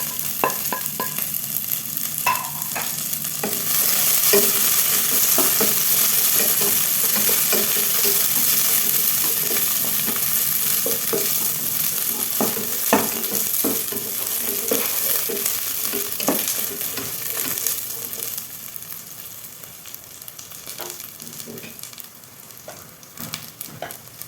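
Raisins and cashews fry in a pan while being stirred, a continuous close sizzle with scattered scraping and tapping of the spoon, gradually easing off toward the end.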